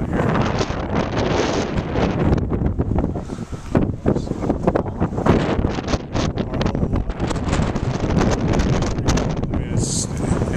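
Strong thunderstorm gust front outflow wind in Mesa, Arizona, roaring and buffeting the microphone continuously at high level with gusty fluctuations, a voice occasionally talking beneath the rush.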